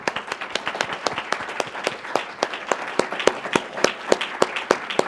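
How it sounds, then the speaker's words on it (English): A modest audience at a research presentation gives a round of applause, a few distinct clappers standing out as sharp, rapid snaps over a softer continuous patter. "I think we owe them a round of applause."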